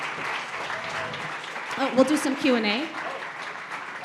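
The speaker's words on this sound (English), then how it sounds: "How about another round of applause?" Audience applause after a talk on AI, a broad wash of clapping with a voice speaking over it in the middle.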